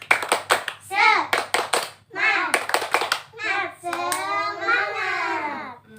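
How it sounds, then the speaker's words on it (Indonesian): Schoolchildren in a classroom perform the rhythmic 'tepuk semangat' clapping chant, sharp bursts of claps alternating with loud chanted voices, ending in a drawn-out shout. "Tepuk semangat dulu coba. Tepuk semangat."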